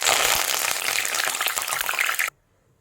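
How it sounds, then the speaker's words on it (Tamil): Curry leaves fry in hot oil while making paneer pakoda, a loud, close, bubbling crackle that spits continuously and then cuts off sharply into silence. "இப்போ நான் கொஞ்சம் கருவேப்பிலை ஃப்ரை பண்ணி எடுக்கிறேன்."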